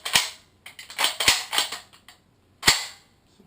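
An airsoft SCAR MK16 bolt catch is released, giving a quick series of crisp, close metallic clicks and snaps. A final sharp click follows after a short pause, with no talking.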